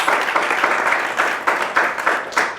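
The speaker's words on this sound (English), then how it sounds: "Can you please give my panel a round of applause?" An audience at a panel discussion on youth financing and innovation claps for the panel, a steady close round of applause with rhythmic bursts that starts to ease toward the end.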